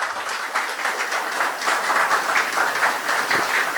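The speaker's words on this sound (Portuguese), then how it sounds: "uma salva de palmas pela atividade" Audience applause at the close of a Spiritist lecture on suicide, a steady dense wash of clapping from a room full of people, moderately loud and sustained with no voices over it.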